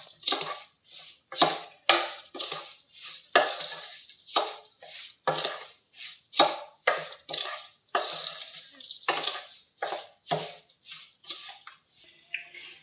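A spoon works rava laddu mixture with ghee around a pan, giving a steady series of scraping, clinking strokes roughly every half second, close and distinct, with no talking.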